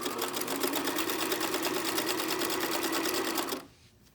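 A domestic sewing machine stitches elastic onto bralette fabric in one steady, rapid, continuous whir of needle strokes, loud and close, stopping abruptly near the end.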